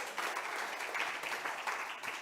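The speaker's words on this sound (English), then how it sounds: "give yourselves a round of applause" Gathered listeners at a spiritual lesson applauding themselves, a brief, fairly soft but continuous spread of clapping from a group, even in level and without a clear end.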